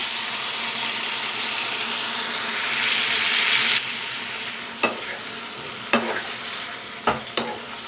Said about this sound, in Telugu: ఇప్పుడు ముందుగానే రెడీ చేసి పెట్టుకున్న చింతపండు పులుసును వేసేద్దాం